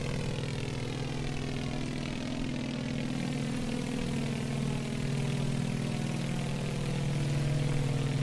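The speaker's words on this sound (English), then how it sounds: "There's the engine sound we want." Beechcraft Model 18 twin radial engines in Microsoft Flight Simulator during a climb, a steady droning hum with strong low harmonics, constant and even in level, heard alone without talk.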